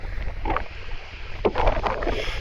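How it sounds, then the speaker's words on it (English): Strong wind buffets the microphone on top of a German bunker at a harbour pier, a steady close rumbling roar with a few louder gusts and no talking. "the wind gets much stronger"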